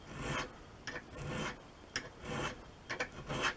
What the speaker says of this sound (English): put the triangular stone right into that V in the screwdriver